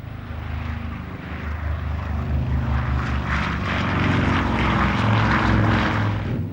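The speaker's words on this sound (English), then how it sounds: "a B-29 named Enola Gay, after the captain's mother, took off from the Mariana Islands" A B-29 bomber's propeller engines roar as it takes off from the Mariana Islands in 1945, a loud, steady droning rumble that swells gradually and stays dense throughout.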